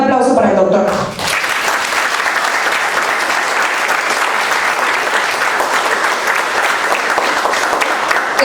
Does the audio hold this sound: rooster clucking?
no